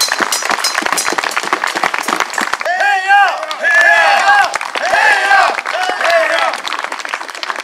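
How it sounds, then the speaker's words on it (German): An audience gives a short burst of applause, crisp scattered claps at first, then a fuller roar of clapping mixed with cheering voices and shouts that rises and falls. "Einen riesen Applaus!"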